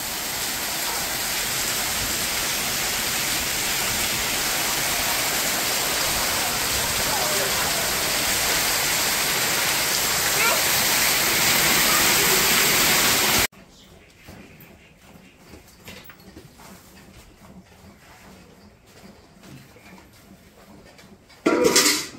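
Heavy rain pours down in a steady, loud, dense hiss for about thirteen seconds, then cuts abruptly to a much quieter, murky background with a brief loud burst at the very end.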